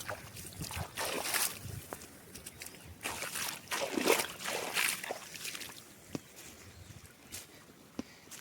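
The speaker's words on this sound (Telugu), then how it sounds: "ఇలా అయితే నీళ్ళు వెళ్తున్నాయి ఫ్రెండ్స్" Water trickles and sloshes steadily through an irrigation channel into a safflower field, with occasional splashy bursts and a few sharp clicks, no talking.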